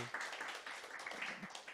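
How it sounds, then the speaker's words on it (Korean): A church lecture audience claps together in a brief, dense patter of hands, fairly faint and close, with a voice murmuring underneath. "박수 한번 쳐주세요"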